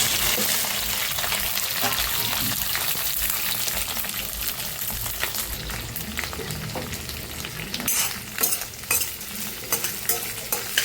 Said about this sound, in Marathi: आता आपण याच्यात भेंडी फ्राय करून घ्यायची आहे.